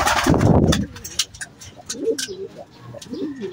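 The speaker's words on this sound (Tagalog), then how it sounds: "first bird natin si Palka" A lone racing pigeon, just home from a derby training race, coos in soft rhythmic phrases after a brief burst of wing flapping and rustling, close by with faint background noise.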